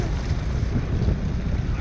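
Strong wind buffets the microphone steadily while kayak fishing at sea off Malaysia, a continuous loud rumbling roar with boat and water noise mixed in and no break throughout.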